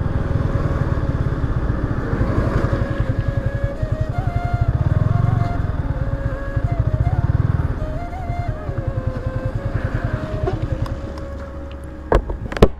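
A motorcycle engine putters steadily nearby, a rapid rhythmic thrum with shifting revs and wind buffeting, ending with a few sharp clicks.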